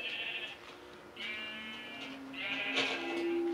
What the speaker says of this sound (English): 1 last sheep